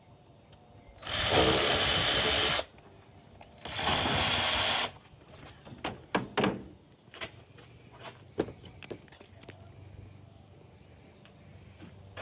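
Two bursts of an electric ratchet, each about a second and a half long, spin 10 mm bolts off a 2010 Toyota Tacoma 2.7 during valve cover removal. Softer clicks and clunks of tools and parts follow, with no talking.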